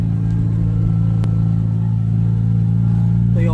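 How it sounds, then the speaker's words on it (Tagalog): A Toyota GT86 engine idles nearby, a steady low droning rumble, with faint clatter in the background. "Toyota GT86."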